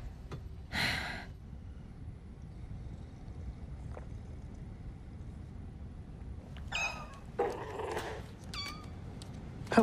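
A cat meows a few times indoors, one call early and a cluster of meows near the end, fairly close and moderately loud over a quiet background without speech.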